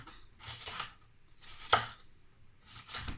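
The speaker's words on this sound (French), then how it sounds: "Je découpe le poivron également" Knife slicing through a bell pepper on a board while preparing roast leg of lamb, three separate bursts of crisp cutting noise with quiet gaps between them, close by.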